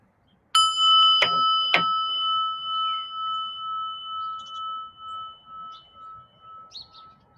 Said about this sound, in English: So we're going to ring our bell.